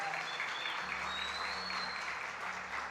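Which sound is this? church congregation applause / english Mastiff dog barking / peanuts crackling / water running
church congregation applause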